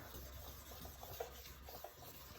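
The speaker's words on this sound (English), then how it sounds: "Just keep sanding until you get all the yellow off." Quiet, steady rubbing and rasping, like sandpaper worked back and forth over a yellowed, oxidized plastic car headlight lens, close up with a couple of small knocks.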